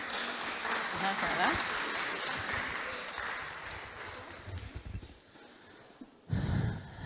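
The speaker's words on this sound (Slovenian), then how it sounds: "En aplavz za profesorico." Audience applause greets a woman professor walking onstage at a lecture on insulin and dopamine, a dense patter of clapping that fades out near the end before a brief close voice and a short burst of noise.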